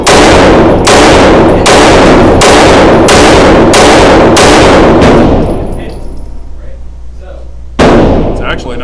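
A rapid string of about eight loud, sharp pistol shots from a new Staccato CS handgun, evenly spaced roughly every half second, followed by a pause and one final shot, with echoing tails and a voice in the background.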